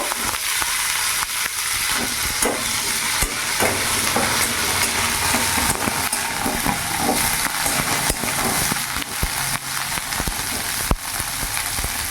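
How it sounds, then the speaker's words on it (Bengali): Cauliflower frying in oil in a pan over a medium gas flame, a continuous close sizzle broken by scraping stirs and occasional pops. "প্রথমে ফুলকপিটা একটু ভেজে নেব।"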